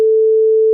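A pure electronic sine tone on the note A sounds alone, steady and loud, for under a second and then cuts off abruptly.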